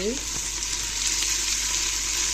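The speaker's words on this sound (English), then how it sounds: "cook the onions and garlic until they become a little bit golden" Onions and garlic frying in a pan for a spinach chicken curry, a loud, steady, close hiss of sizzling oil that holds evenly throughout with a faint tonal sweep at the very start.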